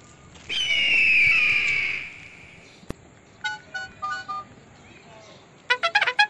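A phone number is dialed on a mobile phone, a short run of several clear keypad tones followed later by a quicker cluster of tones, with a longer whistling tone and background noise before them.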